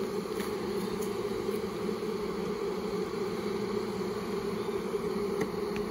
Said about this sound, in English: That went pretty good for a size swarm that big.